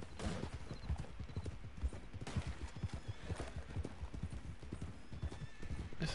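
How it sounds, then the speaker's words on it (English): Horses in Red Dead Online, with steady galloping hoofbeats in a rapid clip-clop rhythm and whinnies over them, quiet in the mix with faint voices. "Is this a wild horse here?"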